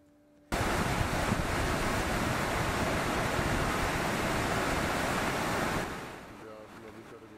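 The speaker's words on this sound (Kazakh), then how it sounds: "Үндістан астанасы Делиде 20 жылда болмаған нөсер жауып жатыр" A record heavy downpour in Delhi, the worst in 20 years, starts abruptly as a dense, loud roar of broadband hiss that holds steady for about five seconds, then fades to a quieter background where faint voices can be heard.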